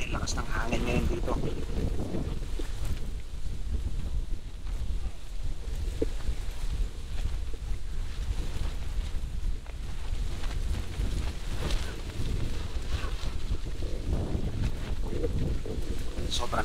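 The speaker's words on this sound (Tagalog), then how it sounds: "Sobrang lakas ng hangin." Strong wind at a campsite during car camping, a loud steady rush and buffeting roar against the microphone that goes on without a break, with a voice talking faintly underneath.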